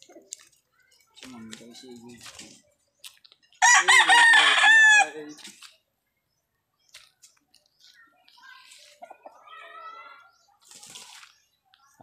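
Hens cluck in short scattered bursts while a rooster lets out one loud, drawn-out crow nearby, then quieter clucking resumes.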